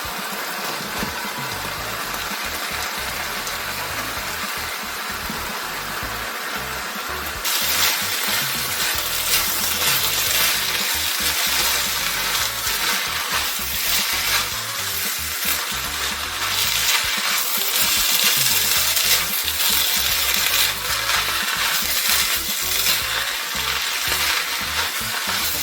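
Rice stir-fried in a hot wok for Chinese combination fried rice, a steady close sizzle and scraping that swells louder after the first few seconds and carries on without talk.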